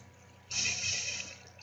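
Water placed from a bucket in Minecraft near lava, a sudden bright splashing gush that starts abruptly, holds steady for under a second, then fades out, alone without talk.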